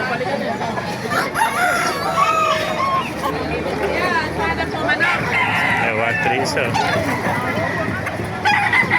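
A rooster crows repeatedly nearby at a rooster market in Baliuag, Bulacan, its calls overlapping amid steady background chatter and people talking.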